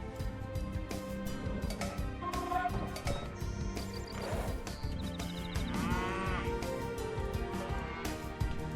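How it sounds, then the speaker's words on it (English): Cows mooing in a medieval video game set in open countryside, low drawn-out calls heard under a busy mix of game music and ambient sounds. "I imagine there's more cows on this side."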